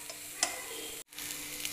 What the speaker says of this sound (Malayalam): നന്നായിട്ടൊന്ന് മിക്സ് ആക്കി എടുക്കണം